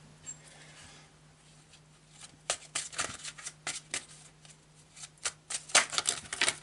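Tarot de Marseille cards being shuffled by hand, a run of crisp riffling flicks and snaps that grows busier toward the end, close and clear over a faint steady hum.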